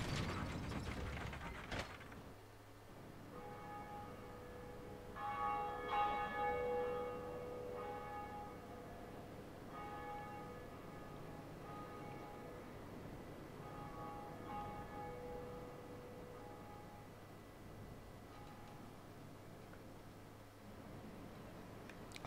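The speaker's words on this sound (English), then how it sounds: "And we'll walk over here and ring this bell." In the Dark Souls video game, the Bell of Awakening is rung, and a heavy mechanical clunk gives way to a long, faint, resonant bell tone with metallic ringing partials. The ringing hangs over low rumbling ambience for many seconds.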